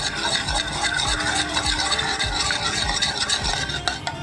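A cracked egg is beaten with salt in a bowl, the utensil scraping and knocking in quick rhythmic strokes, close and steady throughout with no voices.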